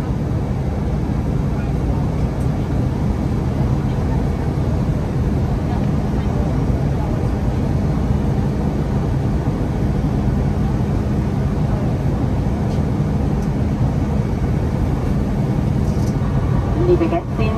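Inside the cabin of an Edelweiss Air A320 airliner before landing, a steady, broad roar of engine and airflow fills the space at an even level, with faint voices in the background.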